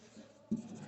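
Writing on a board during a physics lecture on projectile motion: a brief, quiet scratch of strokes, close by, with a slightly louder stroke midway.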